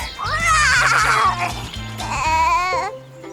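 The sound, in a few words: cartoon baby goat imitating a lion roar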